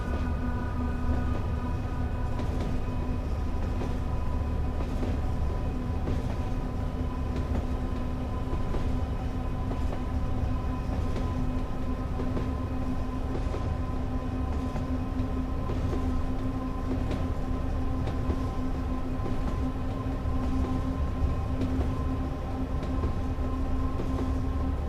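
A Class 86/4 electric locomotive in the Train Sim World 6 simulator runs steadily on the West Coast Main Line between Carlisle and Crewe, a continuous droning rumble and motor hum with a faint regular rhythm of wheels over rail joints.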